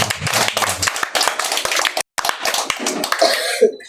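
A church congregation claps during a Tagalog sermon, brisk uneven clapping from a group, near and fairly loud, with a brief pause midway, coughs and a throat clearing mixed in, and murmured voices toward the end.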